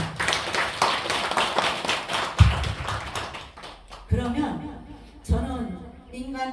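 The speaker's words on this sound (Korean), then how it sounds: "우리 그 사람들을 위해서 박수 한번 쳐줘요" A temple congregation at a Buddha's Birthday dharma talk claps in a brisk burst of many hands at the start, then fades into scattered taps as a voice resumes speaking.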